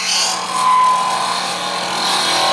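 A new cutter head on a lathe cuts a feather pen blank with a steady, close, continuous whirring scrape of tool against spinning material, holding a fairly even level with no talk.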